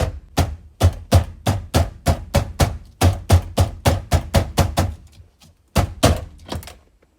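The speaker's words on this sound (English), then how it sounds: "So the best way to do this is to bang it all the way across," Repeated loud, close thumps of a hand banging on a 2001–2005 Lexus IS300 steering wheel to knock it loose, about twenty hits in a steady fast rhythm with a brief pause before a final few blows.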